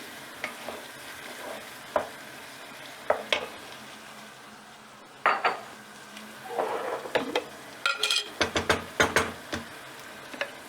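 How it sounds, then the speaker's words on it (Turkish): Cooking tomatoes in a pan with scattered scraping and clinking as they are stirred, a few soft knocks early on, then a busier run of quick utensil strokes. "Şimdi bunu da şöyle bir karıştırayım."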